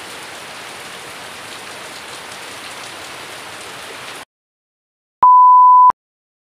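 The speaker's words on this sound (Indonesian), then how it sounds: "sambil mendengarkan suara hujan ya" Steady rain falls on a home garden of pumpkin plants, an even hiss of drops that runs for about four seconds and then stops, followed by silence and a short electronic tone.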